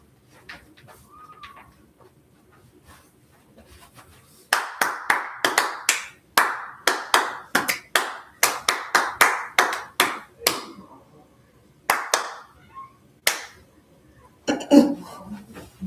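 Sharp hand claps ring out in a quick, uneven run from about four seconds onward, close and loud, with faint murmur and a bird call underneath and a lull before a few last claps.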